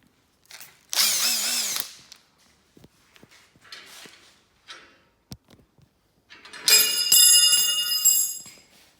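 A power drill used during restoration of a Liteweight Panorama 506 caravan, two short whirring bursts separated by clicks, knocks and handling noises, heard up close with no talk.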